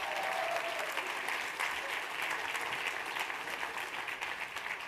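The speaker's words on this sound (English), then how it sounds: "Round of applause" Audience applause at a business talk on scaling, a steady wash of many hands clapping at moderate loudness, sustained evenly for several seconds.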